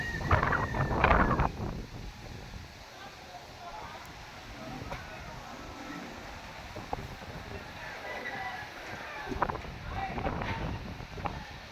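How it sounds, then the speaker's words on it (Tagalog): Strong typhoon wind (Typhoon Uwan) beginning to blow outdoors, a steady rushing roar with gusty buffeting against the microphone and heavier bursts early on, while a person talks over it. "Kasi nagsisimula na ang hangin."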